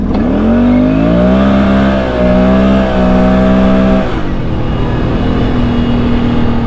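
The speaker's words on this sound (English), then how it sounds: "Definitely pulls hard. Got up on the rev limiter for a second there." A vehicle fitted with a CVTech clutch accelerates hard, its engine pitch climbing steadily to hold at the rev limiter before dropping off, loud and close with no talking.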